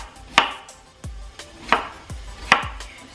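Knife chopping a peeled potato into small cubes on a cutting board, with sharp close knocks arriving in a loose, irregular rhythm and no voice.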